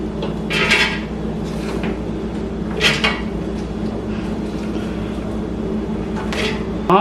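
Sliced onions, about 295 grams from two onions, being spread out in a 5 litre air fryer basket, giving scattered clinks and rustles of handling with a few sharper knocks, fairly close over steady background hum.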